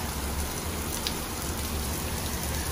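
Steady rain pours down outdoors in front of a church beside a cemetery in Santa Catarina, Brazil, a dense continuous hiss that holds constant and fairly loud throughout, with no voices.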